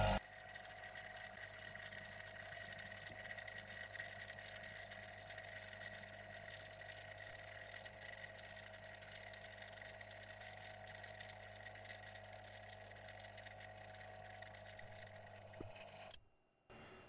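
Vacuum pump drawing down a sealed setup, a steady, faint mechanical hum with a constant pitch, running unbroken for about sixteen seconds before cutting off.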